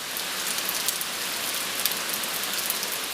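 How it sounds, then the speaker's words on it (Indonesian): Heavy rain pours down on a city, a dense, steady hiss of drops hammering surfaces without a break, loud and close. "Hari itu hujan deras menyirami kota Towarushi"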